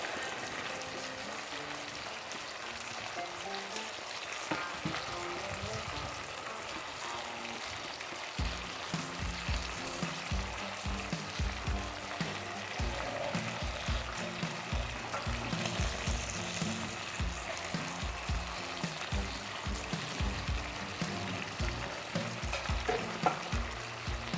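Chicken tikka masala cooks in a pan, a constant close sizzle and bubble with scraping stirs and soft clatters recurring throughout, no talk.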